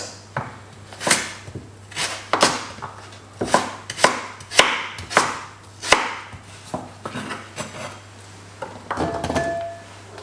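Swede being chopped with a knife on a wooden board, about a dozen sharp close thuds in an uneven rhythm with short gaps between, under a low steady hum and no talking.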